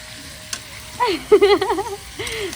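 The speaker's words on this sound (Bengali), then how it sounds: "রান্না করছে মাংস খুন্তি নাড়তে পারিস তো" Meat frying in a pan while being stirred with a spatula, a soft sizzle with light scraping, mostly covered by voices talking close by.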